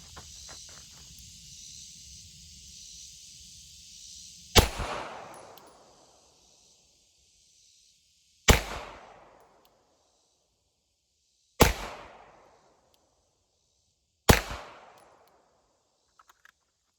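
Four sharp pistol shots from a Rock Island Tac Ultra FS HC ring out at a range, spaced a few seconds apart, each a loud crack with a brief decaying tail, after a stretch of low background hiss.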